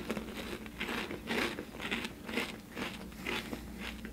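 Repeated crunchy bites into a puffy, cube-shaped spicy Korean octopus snack, close and crisp, about eight crackling crunches in a steady chewing rhythm with no talking.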